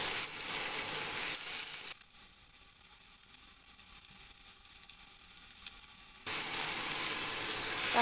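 Loud, steady sizzling of a vegetable filling for lumpia being stir-fried in a pan, a constant hiss that drops away for several seconds mid-stir and then returns at full strength, with no talking.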